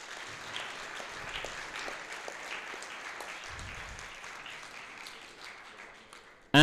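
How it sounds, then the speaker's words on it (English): At an international university startup competition, the audience gives a modest round of applause for the participants, with scattered clapping at moderate distance that thins out toward the end, closing with a sudden loud burst. "Round of applause for yourselves,"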